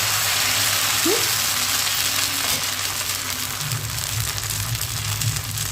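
Mixed dal uttapam batter sizzling on a hot pan as it is spread with a spoon: a loud, continuous close frying hiss that holds steady throughout, with a faint low hum underneath.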